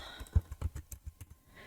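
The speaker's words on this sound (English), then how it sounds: "you can just start typing online exclusive" Typing on a computer keyboard to enter a search term, a quick run of about a dozen soft, close key taps in an uneven rhythm, with no one speaking.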